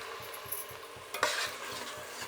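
Curd added to a tomato masala in a pan, a soft sizzle with a brief splash and faint stirring scrapes, the sound stays low throughout.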